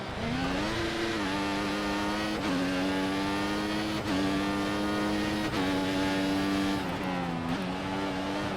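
Formula 1 car engine from the F1 2014 racing game, qualifying at the Austria track, droning loudly and steadily with repeated gear shifts and rising revs throughout, close and continuous with no talk.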